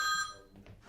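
A telephone rings briefly and faintly with a high, electronic warble that cuts off after a moment, leaving low room noise.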